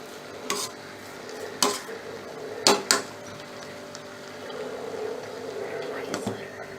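Cardamom powder being stirred into coconut rice in a pot, with a few sharp scraping clinks of the spoon against the pan spaced a second or so apart, over a faint sizzling background.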